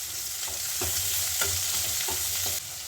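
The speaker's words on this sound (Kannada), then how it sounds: "ಎರಡನ್ನೂ ಕೂಡ ಇವಾಗ ಫ್ರೈ ಮಾಡ್ಕೋಬೇಕು" Chopped onion and cumin sizzle in a pan for paneer sukka while a spoon scrapes and stirs in a steady rhythm of about five strokes over a constant frying hiss, close up with no voices.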